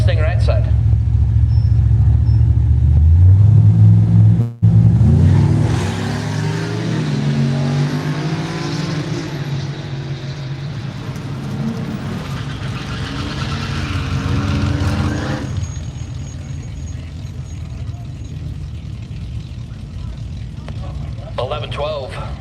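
Ford Mustangs, including a 1979 Mustang, drag racing down Woodburn Dragstrip, a loud rising engine roar that sweeps up through the gears, then fades into a lower rumble, with an announcer talking over it.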